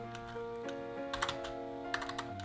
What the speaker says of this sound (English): As you type color balance here in the search field